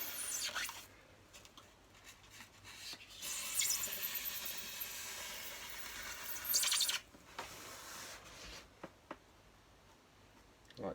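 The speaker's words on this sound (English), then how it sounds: "this ruler so I can get a straight cut, and then just" Blade cutting along a ruler while building a diorama, a faint, close scratchy hiss of strokes drawn across the material, with a few soft taps and pauses between them.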